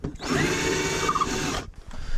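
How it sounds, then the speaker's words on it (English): A power drill bores out a 3/8-inch hole to 1/2 inch for an antenna wire run in an Airstream travel trailer, a close, loud whine lasting about one and a half seconds before stopping abruptly. "So let's drill that hole bigger this time."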